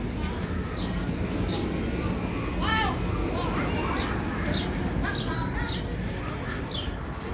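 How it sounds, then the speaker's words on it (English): Small birds chirp in short high calls over loud, steady crowd and children's chatter at the Six Flags Great Adventure amusement park. "There's a little bird down here, and I hear chirping up top somewhere."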